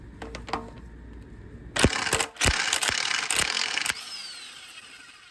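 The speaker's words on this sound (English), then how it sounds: "We're going to take off this 17mm bolt to loosen the VTC gear off, or the intake cam gear." A hand ratchet works a 17mm bolt on the VTC intake cam gear of a K24 turbo engine, a few light clicks and then a run of loud, close ratcheting bursts.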